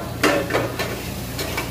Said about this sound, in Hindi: और इसको हल्का सा भूनेंगे धीमी आंच में।